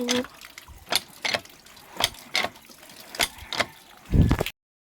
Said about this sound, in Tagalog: tumutulo na po dyan yung tubig doon sa may banyo po